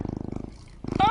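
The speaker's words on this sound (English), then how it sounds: "Oh my goodness, he purrs." A pet cat in the video game DC Universe Online purrs in a close, rhythmic low rumble, and a higher voiced call rises at the end.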